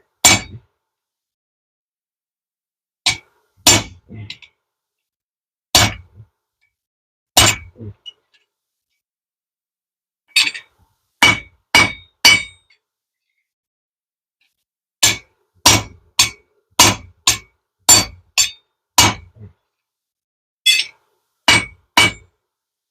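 A blacksmith's hammer rings on hot steel over an anvil while hand-forging a bottle opener, sharp metallic clangs in irregular clusters of two to six blows with pauses between, close and clear.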